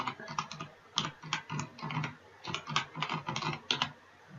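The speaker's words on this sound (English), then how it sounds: "we can just type the name in here" Computer keyboard typing up close, quick bursts of key clacks in uneven clusters with short pauses, moderately quiet and with no talking.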